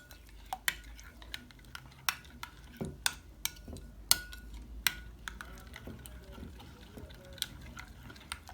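A spoon stirs raita of yogurt mixed with ground coriander, green chillies and cumin in a bowl, giving a run of sharp clinks and soft wet swishes at an irregular rhythm, close and moderately loud, with no talking.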